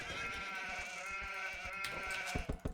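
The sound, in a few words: sheep bleating in Age of Empires video game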